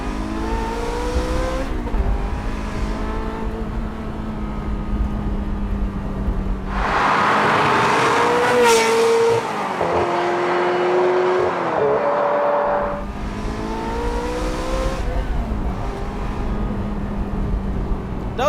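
A Ferrari 355 F1 engine revs hard past 7,500 RPM. Loud rising and falling harmonic engine notes climb in pitch through several sweeps, with a sharp peak near the middle.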